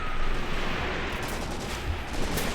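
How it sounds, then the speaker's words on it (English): A high-explosive artillery barrage in the WWII wargame Graviteam Tactics: Mius Front, a dense roaring wash of blasts and rumbling detonations, loud and continuous with a few sharper bursts, and no voices. "Hoping for the best here to hit these guys with a massive artillery barrage."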